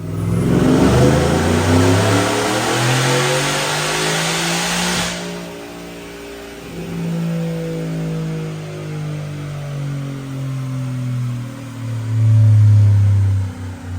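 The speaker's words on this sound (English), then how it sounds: "Check out this dyno pull." A supercharged 2021 Ford F-150 with a 5.0 Coyote V8 and Whipple Gen 5 blower screams through a loud dyno pull, rising to a high rev, then dropping and surging again with rumbling revs.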